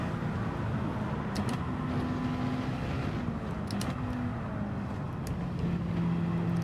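A race car with an engine swap, racing in Gran Turismo 7, holds a continuous, even engine drone for several seconds, with no talk over it.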